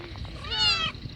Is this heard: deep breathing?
no